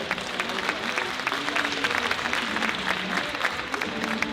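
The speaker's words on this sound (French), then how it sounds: "Allez, on applaudit Serge Dessel, s'il vous plaît" A crowd at a men's physique and bikini bodybuilding show applauds steadily, with a faint murmur of voices and a low tone running under the clapping.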